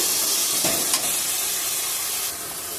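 Lai leaf greens for a tengra fish dish sizzle and hiss in a hot pan while being stirred, a steady close frying sound with faint scrapes and no talk.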